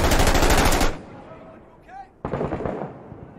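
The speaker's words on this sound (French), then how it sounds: "À droite, ça tire." Rapid automatic gunfire in the tactical shooter Six Days in Fallujah: a loud sustained burst, a brief lull with faint distant noises, then a second burst of shots.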